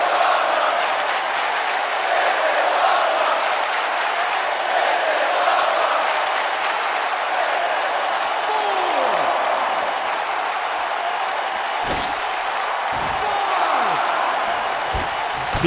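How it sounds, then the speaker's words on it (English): A large arena crowd in the WWE 2K19 wrestling game roars and applauds in a steady, sustained swell of cheering, with a few sharp impact thuds and whooshes cutting through in the later part. "by the sound of this crowd, I think they're getting what they wanted"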